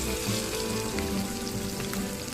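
Onion frying with cumin in hot oil over medium heat, a steady dense sizzle and crackle held at an even, close level throughout.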